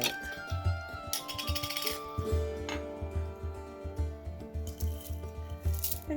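Sun-dried hibiscus flower petals are poured into a container, giving soft, close, irregular rustling and light clinking taps, quiet and alone without any talking.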